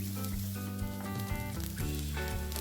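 Onions and garlic frying in a pan for an egg masala curry, a steady close sizzle running continuously, with stirring scrapes over a low background hum.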